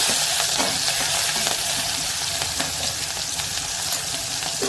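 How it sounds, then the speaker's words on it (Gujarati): Garlic, chili and onion sizzle steadily in hot oil with asafoetida and curry leaves as a mung masala tempering is stirred, a dense continuous crackle with occasional scraping stirs, close and loud with no voices. "અને ડુંગળી બસ હવે આ બધું આપણે એકવાર હલાવીને સાતળવા દઈશું"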